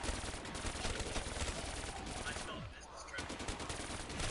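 Dense, rapid gunfire from the Call of Duty zombies video game, nearly nonstop automatic bursts with a brief dip before resuming, loud and continuous with faint voices mixed underneath.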